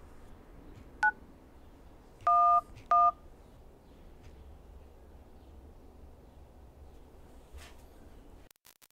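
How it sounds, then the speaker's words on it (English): An old HTC Droid Incredible phone dials 911, giving one short keypad tone and then two longer dual-tone bursts against faint background hiss, followed by near silence. "In all three cases, the phones thought they were calling 911."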